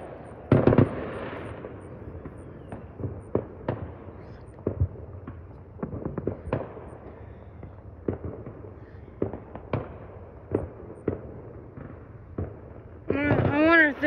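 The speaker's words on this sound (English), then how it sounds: "We have some fireworks." Distant Fourth of July fireworks crackle and thump in irregular bursts, a long string of sharp pops, with a voice speaking briefly near the end.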